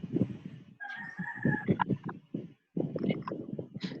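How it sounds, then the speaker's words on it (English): A rooster crows near the microphone in a long drawn-out call, set among overlapping clucks and calls from other fowl in a busy backyard flock. "More roosters."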